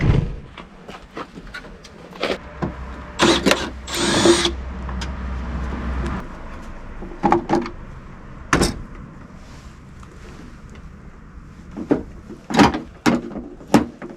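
A screw is removed from the side marker light of a first-generation Toyota Tacoma with a power driver, which gives a whirring burst near the start. Sharp clicks and clunks of tools and parts are scattered throughout, close and fairly loud.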